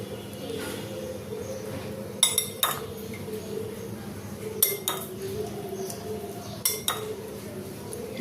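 Someone eats hilsa fish cooked with green banana from a plate: a few scattered sharp clinks of cutlery against dishes stand out over a steady background hum, spaced a couple of seconds apart, with no clear talking.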